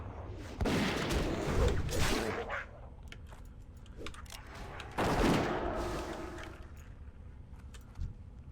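Gunshots from a dwarf hunter's ranged weapon in the World of Warcraft video game: two loud booming bursts, each trailing off, separated by a short lull with faint game ambience.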